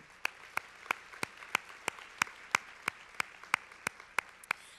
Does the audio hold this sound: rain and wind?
no